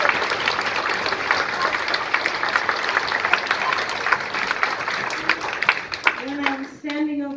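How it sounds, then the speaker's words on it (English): Audience applause after a fourth grade orchestra concert, a dense, steady wash of many hands clapping that fills the room, with a voice starting to speak as it fades near the end. "Can you give them another round of applause?"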